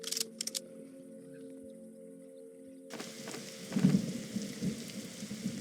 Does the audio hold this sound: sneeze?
no